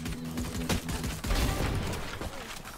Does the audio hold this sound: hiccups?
no